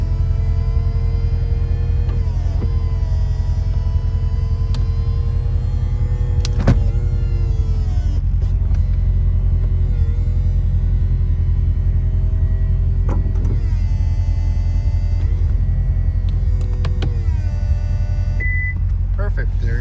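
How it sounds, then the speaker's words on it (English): Electric motor whines steadily as the power convertible top of a running car rises, a continuous near hum with shifting tones over the idling engine, with brief beeps near the end. "since it's a convertible, we'll go ahead and we'll put the top up so you can see the operation"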